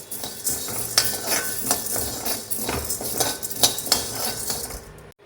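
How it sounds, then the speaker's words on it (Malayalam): Urad dal and chana dal dry roasting together in a pan for idli podi: a utensil scrapes and stirs in repeated clinks and rattles with light sizzle, close and fairly quiet, stopping abruptly at the end. "രണ്ടും ഒരുമിച്ച് ചേർത്ത് കൊടുത്തിട്ട് നമുക്കതൊന്ന് വറുത്തെടുക്കാം"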